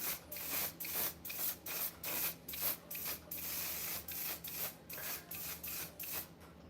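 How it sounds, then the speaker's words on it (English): Repeated short hissing bursts of an aerosol makeup setting spray, about a dozen quick pumps in a steady rhythm, close and fairly loud over a faint hum. "That's all that power in that spray."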